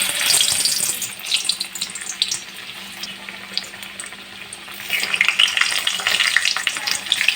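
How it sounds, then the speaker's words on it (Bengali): Boiled potatoes fry in oil for Kashmiri dum aloo, a close crackling sizzle that swells and eases with stirring, growing busier toward the end, with no speech. "আর এখন আমি ভেজে নেব কাশ্মীরি আলুর দমের জন্য সেদ্ধ করে রাখা আলুগুলো"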